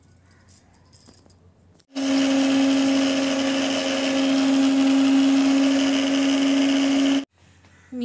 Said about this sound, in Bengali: এবারে আমি মিক্সচার মেশিন নেবো, তার জন্য এটাকে ঢেলে দিচ্ছি।